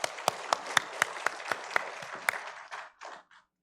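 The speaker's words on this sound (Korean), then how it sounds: "그리고 시원 찬양대 찬양 기쁘게 받으신 우리 하나님께 영광의 박수 올려드리겠습니다" Congregation applause at a Sunday church service, a burst of individual claps that is loud at first and then thins out and fades within a few seconds.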